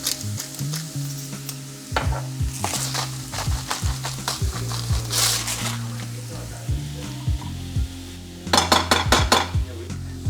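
Onion sauteing in a pan, a close continuous sizzle broken by repeated stirring scrapes and clinks of a utensil against the pan, busiest near the end.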